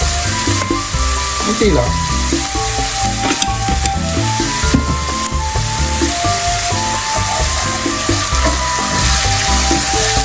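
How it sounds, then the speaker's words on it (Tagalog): Garlic and aromatics sizzling loudly in a pan while being sautéed for carbonara, a constant close frying hiss with scraping stirs throughout and a brief spoken word. "At habang sinasangkot na natin ang ating aromatics"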